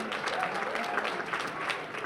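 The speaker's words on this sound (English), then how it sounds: "giving a really big round of applause" An audience at an appreciation event applauds, a brief, fairly distant wash of many hands clapping steadily throughout, with faint voices mixed in.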